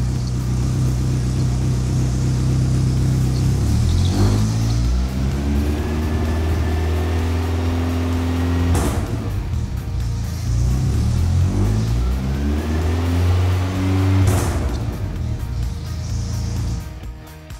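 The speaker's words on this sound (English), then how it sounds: "We're gonna just go ahead and start the car real quick and make sure that everything is good, that our timing's set" A Volkswagen race car running a newly fitted camshaft idles roughly, then revs up and back down three times in a row, with a loud, close engine note rising and falling.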